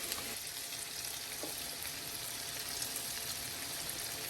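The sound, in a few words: salmon cakes frying in a pan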